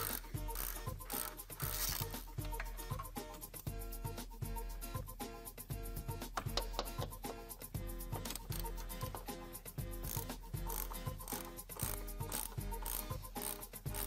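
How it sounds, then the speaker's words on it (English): Ratchet wrench clicking in quick, repeated bursts while removing the upper mount bolts of a Porsche Cayenne front air strut, a dense mechanical rattle that continues throughout. "Remove the three mounting bolts that secure the air strut's upper mount."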